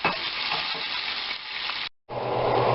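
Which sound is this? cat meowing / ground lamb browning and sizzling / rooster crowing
ground lamb browning and sizzling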